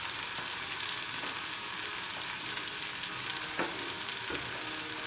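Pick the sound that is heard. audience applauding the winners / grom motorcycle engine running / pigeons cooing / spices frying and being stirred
spices frying and being stirred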